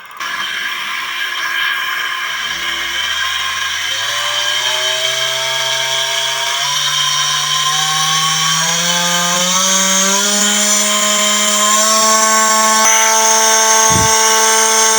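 A motorcycle engine fitted with an IRFZ44N MOSFET CDI runs close by, rising from a low idle into a steady, climbing rev with a loud buzzing whine and a brief blip near the end.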